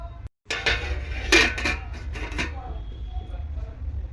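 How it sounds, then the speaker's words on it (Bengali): A spatula knocks and scrapes in a pot of khichuri lentils during stirring, followed by a lid clanking into place, a few brief metallic clinks heard up close under some speech. "এখন খুঁটি দিয়ে একটুক্ষণ নেড়ে দিয়ে এখন ঢাকা দিয়ে দেবো এটা"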